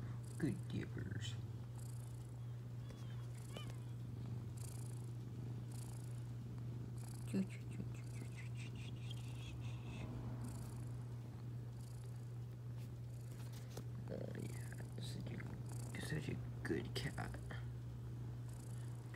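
A contented domestic cat purrs steadily and close up for the whole stretch, a low continuous rumble with a few soft rustles and faint whispered sounds on top.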